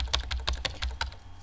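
Rapid clicking keystrokes from the chat typing effect in the game Emily is Away, a quick burst of a dozen light taps heard alone.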